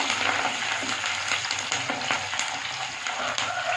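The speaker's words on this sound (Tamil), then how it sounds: "சின்ன வெங்காயமும் பூண்டும், கருவேப்பிலை, நல்லா போட்டு ஒரு கிளறி விடுவோம்" Shallots, garlic and curry leaves sizzle loudly in hot oil as they are stirred for a tamarind aloe vera curry, a dense, steady crackle close up with faint scrapes of the spoon throughout.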